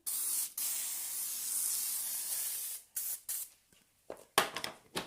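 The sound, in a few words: spraying grease spray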